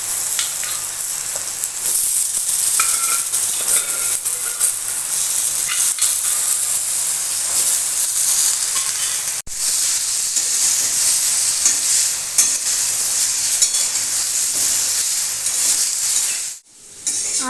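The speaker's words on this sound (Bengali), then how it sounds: "এবার আমি এতে আলু, গাজর আর পেঁপেগুলো দিয়ে দেব, দিয়ে একটু ভেজে নেব" Potatoes, carrots and papaya frying in mustard oil in a kadai, a loud continuous hiss and sizzle that runs steadily, then cuts off abruptly near the end.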